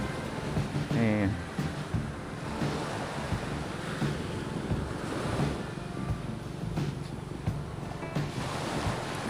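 Ocean surf breaks where a river flows into the sea on a Philippine beach. A constant roar of waves comes through heavy wind buffeting on the microphone, and a voice is heard faintly in the background.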